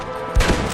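A single close gunshot thump in Red Dead Redemption, brief and loud over low background ambience.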